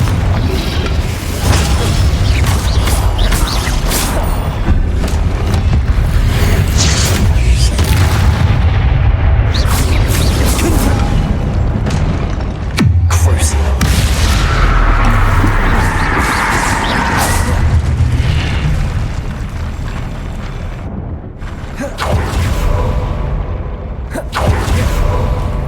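Confringo fire-blast spells burst repeatedly in Hogwarts Legacy on PC, a dense run of loud booms and crashing impacts over a constant rumbling game soundscape, with brief lulls between blasts.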